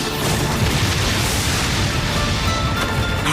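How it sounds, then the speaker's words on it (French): A huge explosion from training mines in an anime obstacle race, a loud, dense, continuous roaring rumble filling the whole stretch with no pause. "Waouh, une énorme explosion en queue de course."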